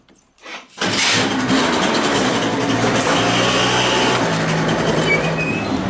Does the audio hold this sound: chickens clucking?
no